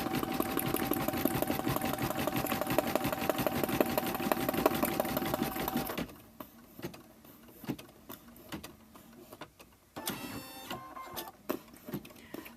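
A sewing machine runs in a fast, steady mechanical chatter while stitching applique onto balsam wood, then stops and gives way to scattered clicks and short bursts of motor whir.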